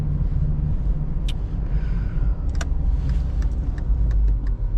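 Mercedes-Benz 200TE S124 from 1994, with a naturally aspirated 4-cylinder petrol engine, driving along with a steady low engine rumble heard from inside the cabin, plus a few small interior rattles and clicks.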